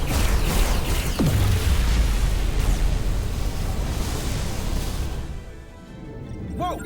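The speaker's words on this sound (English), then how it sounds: "Dilithium explosion." A dilithium explosion in the video game Star Trek Resurgence, a loud sustained roaring blast that fades over several seconds.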